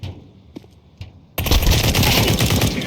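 Gunfire from the game Counter-Strike 2 on the Vertigo map: a couple of faint clicks, then a sudden loud sustained burst of automatic fire lasting to the end, with no talk.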